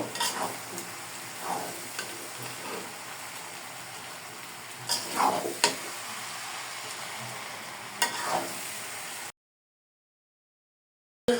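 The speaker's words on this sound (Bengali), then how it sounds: "আমি চাউমিনটাকে ভেজে নিব আর এক এক করে বাকি মশলাগুলো দিয়ে দিব।" Chow mein noodles stir-fried and mixed in a pan, a steady sizzle with recurring scraping stirs every couple of seconds, ending abruptly in silence near the end.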